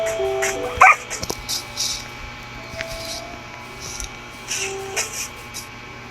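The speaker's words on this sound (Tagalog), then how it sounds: "aso pala yun" A single short dog bark from the Minecraft video game rings out near the start, followed by soft game ambience and scattered clicks.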